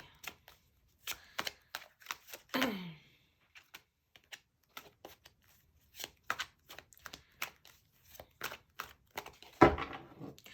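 A deck of tarot cards is handled and shuffled, giving sparse, close clicks and taps in irregular bursts, with a couple of longer swishing riffles standing out amid quiet gaps.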